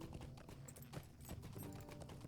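Horse hooves clop steadily in Lord of the Rings Online on the approach to Hengstacer Farm. They are quiet and close, with a low rumble underneath.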